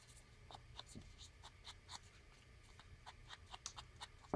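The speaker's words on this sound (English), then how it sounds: "now you have a little slide that you can use to write on the back of it" A pen writes on the back of a small paper slide, making faint, close, intermittent scratching strokes in a quiet room.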